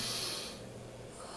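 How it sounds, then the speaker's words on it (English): A person takes a deep, forceful breath during a breathing exercise, a close, loud airy inhale that fades into a softer hissing breath, heard alone. "Do you do the deep breathing?"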